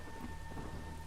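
Steady rain and distant thunder form a dense, continuous ambience with a low rumble underneath and constant patter, no voices.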